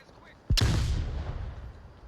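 A single sharp grenade blast in the VR shooter Onward, a sudden loud crack followed by a rumbling tail that fades over about a second and a half.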